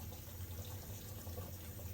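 Warm water running from a kitchen sink tap while doing dishes, a steady, faint rushing hiss that continues evenly the whole time with no voices.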